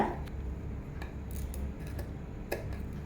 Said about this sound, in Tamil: கொஞ்சம் கொஞ்சமாக இப்படி ரெண்டு துணியை சேர்த்து கிராஸ் கிராஸாக வெட்டி விடுங்க